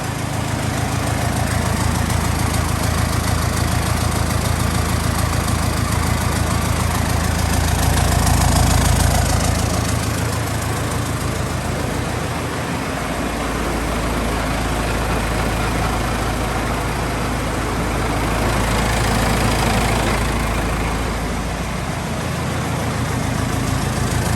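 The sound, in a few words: engine idling after cold start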